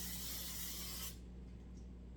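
Pam cooking spray hisses onto a big pan lined with parchment paper in a home kitchen, one close, bright burst lasting about a second and then cutting off abruptly.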